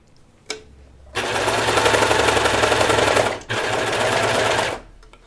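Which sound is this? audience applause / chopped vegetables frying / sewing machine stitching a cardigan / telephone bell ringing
sewing machine stitching a cardigan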